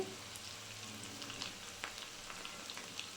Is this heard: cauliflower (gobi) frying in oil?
yes